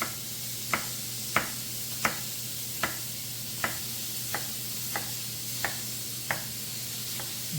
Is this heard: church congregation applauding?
no